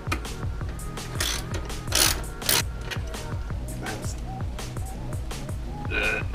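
Ratchet wrench tightening a nut onto the J bolt of a battery tie-down on a Land Cruiser, giving quick, regular clicking strokes in close succession, with faint breathing and movement behind them.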